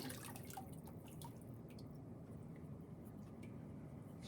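Glaze poured quickly over a ceramic piece, a soft continuous liquid trickle and dripping, faint and steady with no talking.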